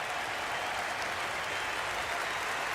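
A cricket crowd applauds Mark Taylor's fifty with steady, even clapping that stays at one level throughout, heard from a distance with no voices over it.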